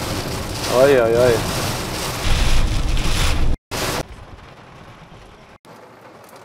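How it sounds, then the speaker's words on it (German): Rain from a summer thunderstorm patters and hisses steadily against a vehicle driving on the B195 federal road, loud at first, then cutting out abruptly and fading to a faint wash; a voice exclaims briefly. "Jetzt beginnt es etwas zu regnen."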